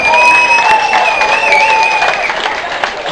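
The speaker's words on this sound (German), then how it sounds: "Einmal Applaus für Tane, bitte." A crowd at a gaming community party applauds steadily for a guest, a dense wash of clapping and light cheers lasting a few seconds at moderate loudness.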